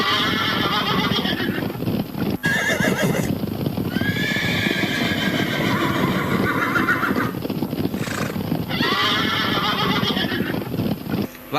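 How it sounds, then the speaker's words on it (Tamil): Recorded horse sound effects play during a school prize-day stage drama. Loud, repeated whinnies and neighs ring out over a continuous clip-clop of galloping hooves. "பாருங்கள், என் குதிரைகள் எல்லாம் எப்படி வருகின்றன என்று பாருங்கள்."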